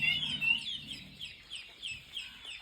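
Guinea fowl calling on a farm: a series of harsh, rhythmic, repeated cries in steady pulses at moderate distance, with a faint low rumble underneath early on.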